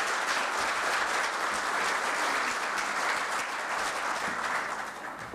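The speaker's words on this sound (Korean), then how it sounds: "박수로 환영해 주시기 바라겠습니다." A hall audience at a Korea University labor-management-government forum breaks into full, dense applause to welcome a former National Assembly speaker, loud and continuous before tapering slightly at the close.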